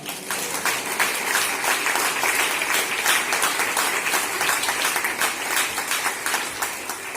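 Church congregation clapping in praise during a sermon, a dense, steady wash of many hands filling the room, fairly loud and continuous throughout, with no talk over it.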